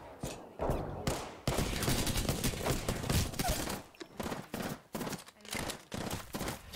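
Rapid bursts of gunfire in Apex Legends, loud automatic volleys crowding the first half and then breaking into shorter choppy salvos with brief gaps, with no talk.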